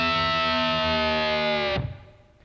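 Loud distorted electric guitar in a lick, playing a long sustained bent double-stop that cuts off sharply and leaves a short fading ring, with no talking.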